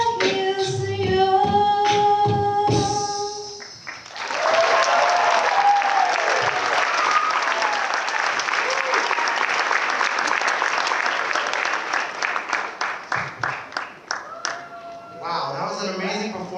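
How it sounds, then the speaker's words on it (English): Audience applause fills a hall after a live duet at a Pilipino musical, starting with a short stretch of singing, then sustained clapping from a crowd that thins into scattered claps before talk resumes. "Can we give them another round of applause?"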